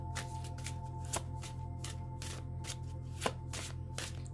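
Tarot oracle cards are shuffled by hand in quick, close-up riffles and soft slaps, a steady rhythmic flutter over a quiet room hum.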